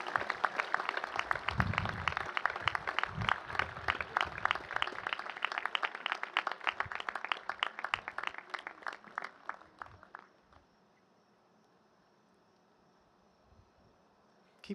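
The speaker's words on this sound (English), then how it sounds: "Keep clapping" A university induction audience gives rhythmic, fairly distant applause for about ten seconds, with a few voices underneath, then the clapping stops abruptly and leaves near silence.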